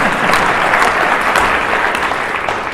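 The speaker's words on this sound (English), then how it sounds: "I think we've got to give him a clap because he just did that in under 60 seconds" Loud, close audience applause at an e-learning expo session, a dense unbroken wash of many hands clapping evenly for a few seconds.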